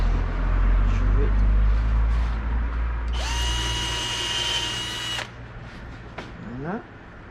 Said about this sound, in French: Et on va faire les 2 trous.